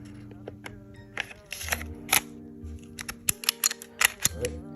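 A Glock pistol slide is worked back onto its frame after cleaning, producing a close series of sharp metallic clicks, clacks and brief scrapes that come quicker toward the end.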